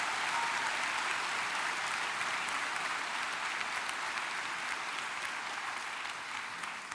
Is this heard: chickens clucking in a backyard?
no